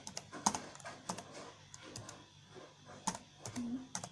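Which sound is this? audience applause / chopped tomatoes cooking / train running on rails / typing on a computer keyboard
typing on a computer keyboard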